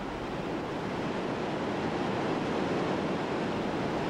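Thundering roar of the small Lison River surging out of a huge opening in a limestone cliff at its spring in the Jura Mountains, a dense, constant broadband rush heard alone without pause.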